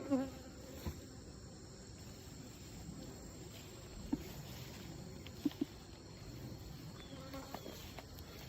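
Honeybees hum softly around a backyard hive on a hobby farm, a faint continuous buzzing with a few sharper close passes of individual bees.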